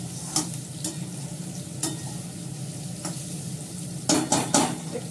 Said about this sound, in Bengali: একটু কষাবো, কষিয়ে জল দিয়ে দেবো